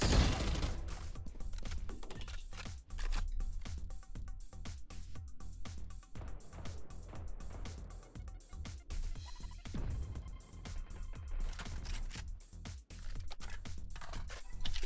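Rapid, dense bursts of Valorant gunfire crackle continuously, with repeated sharp shots piling over one another at moderate loudness.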